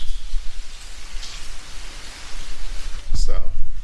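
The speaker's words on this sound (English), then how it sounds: "And then outside today, very fitting for German weather," Steady rain falling outdoors in Germany, a broad continuous hiss with a few louder bursts near the end, heard alone without talk.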